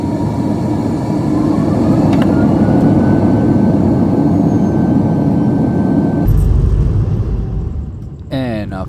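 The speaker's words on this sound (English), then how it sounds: "After a short takeoff run" A Singapore Airlines jet airliner on its takeoff run, a loud steady roar of engines and rumbling wheels building for several seconds before easing off, heard from inside the cabin.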